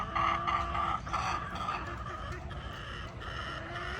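Backyard chickens, including a yellow-legged hatch rooster, cluck and squabble continuously while being fed, a dense busy flock sound close by with a faint human voice underneath.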